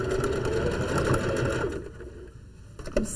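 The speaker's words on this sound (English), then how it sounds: "So I stitched along here and stopped at the thumb." Sewing machine stitching a seam on a wool mitten, a loud steady mechanical whir with a fast rhythmic pulse that winds down and stops, followed by a faint click.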